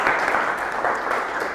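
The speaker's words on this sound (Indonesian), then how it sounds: "tepuk tangan untuk kalian semua." Students in a school counseling class applaud together, a short, dense burst of hand clapping at moderate loudness that carries on evenly for a moment.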